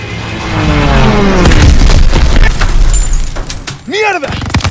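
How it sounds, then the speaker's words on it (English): Stuka dive bombers attack in Call of Duty WWII, with a loud booming explosion and rumbling blasts under shouted voices. A falling whine builds near the end. "Stukas, inbound."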